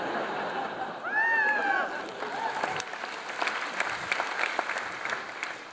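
Audience applause at a comedy gala in Tallinn, a dense wash of clapping with a brief whoop early on, moderately loud and sustained throughout.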